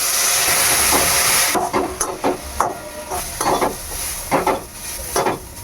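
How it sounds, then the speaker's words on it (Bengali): Semolina cooking in a pan with a little water and salt: an opening hiss of steam, then rhythmic stirring scrapes and soft sizzling in short, regular strokes. "এবারে অল্প অল্প করে জল দিয়ে নাড়তে হবে।"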